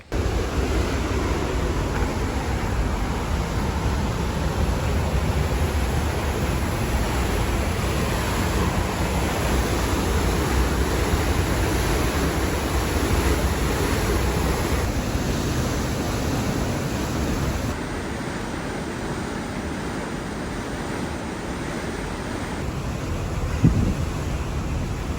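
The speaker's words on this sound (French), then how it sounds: "il y a une cascade quelque part derrière la forêt" A distant waterfall somewhere behind a forest gives a constant, broad rushing roar that stays steady and even throughout, with no voices over it.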